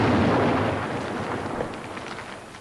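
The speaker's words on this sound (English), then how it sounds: "a bomb exploded under his motorcade" A bomb explodes beneath Robert Mugabe's motorcade as he leaves an election rally in Rhodesia: a loud, broad, rumbling blast that slowly fades away.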